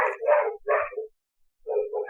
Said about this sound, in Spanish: van a escuchar ruidos, pero tengo mis perros ladrando